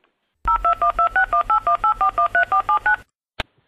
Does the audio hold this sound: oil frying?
no